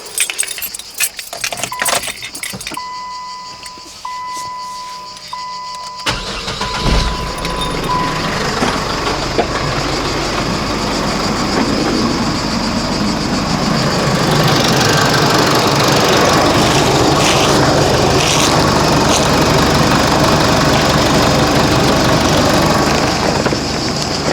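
A car engine with a turbo, tinkered with and fitted with new details, cranks and starts after a jangle of keys, then settles into a steady, loud idle that runs on alone.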